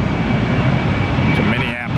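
A jet airliner's engines roar steadily at a runway during takeoff, a dense continuous rumble that swells slightly toward the end, with a voice talking over it.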